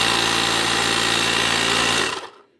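A Rally 7471 power pack runs after a battery replacement, giving a loud, steady motorized hum with a faint mechanical whine close up, then cutting off abruptly and falling silent.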